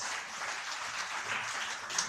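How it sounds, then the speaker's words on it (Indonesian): A church congregation applauds during a Sunday worship service, giving a steady wash of clapping that runs the whole time at moderate, somewhat distant loudness. "Tepuk tangan buat Tuhan Yesus."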